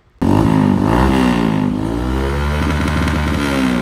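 A Kymco Xciting VS 400 scooter with an Akrapovic carbon exhaust revs loudly close by, deep and throaty, its pitch rising and falling, then settling into a rough, popping idle.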